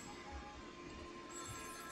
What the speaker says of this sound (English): Alright, phone ringing.